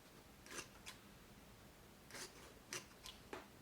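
Leather scissors snipping through thick felt, a few faint close crisp cuts in two short bursts over a quiet room, with no speech.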